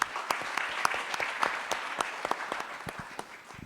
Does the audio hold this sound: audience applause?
yes